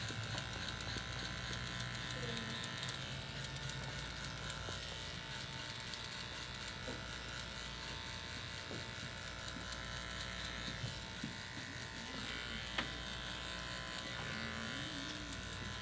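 Electric hair clippers buzz steadily and closely through a haircut, a continuous drone with small shifts as the blades move through the hair.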